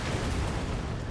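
Cannons fire during a battle at Sendai in the Fall of the Samurai strategy video game, a dense, loud rumble of overlapping booms and blasts that continues without a break.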